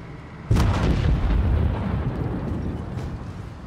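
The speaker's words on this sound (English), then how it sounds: "they're shooting at the tank." Loud, dense gunfire erupts abruptly at a tank in Fortnite, a sustained burst of rapid shots and booms that gradually trails off, with no talk.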